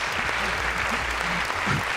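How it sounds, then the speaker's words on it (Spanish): A studio audience on a Spanish television program gives steady applause, a dense, even clatter of clapping filling the whole short moment at close range. "Por favor, un aplauso para nosotros."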